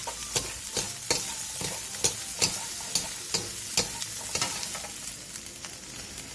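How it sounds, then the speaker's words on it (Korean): Shishito peppers sizzle in hot oil with salt over high heat, a steady close fry broken by regular sharp scrapes and clanks as they are stirred and tossed in the pan. "팬에 기름을 두른 뒤 꽈리고추와 소금 2분의 1티스푼을 넣고 센 불에서"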